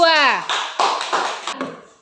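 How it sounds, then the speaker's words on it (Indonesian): Students in a classroom clap for a student group, a few short bursts of applause following a brief voice at the start. "Ayo tepuk tangan untuk kelompok 2."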